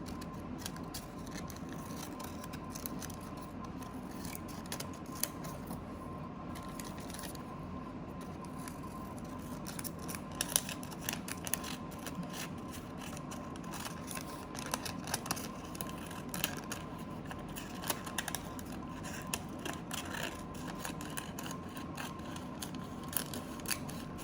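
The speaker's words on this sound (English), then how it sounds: "I'm gonna go around it and try to trim it a little bit more." Scissors trim around the wrapping of homemade pasteles, a steady run of small crisp snips and rustles close by, with no voices.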